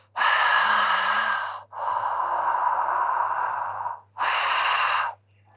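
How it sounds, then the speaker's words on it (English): Three long, loud open-mouthed ujjayi breaths, a steady breathy haaah like fogging up a glass, with short gaps between them and no talk. "imagine that you are trying to fog up a glass. So with your mouth open"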